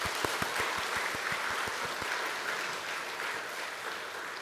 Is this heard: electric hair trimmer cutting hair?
no